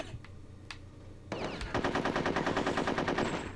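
Rapid machine-gun fire in the video game Conker's Bad Fur Day, a war-themed level with squirrels: a couple of isolated shots, then a loud, sustained, evenly spaced burst with no talking.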